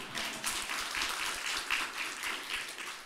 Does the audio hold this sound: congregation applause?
yes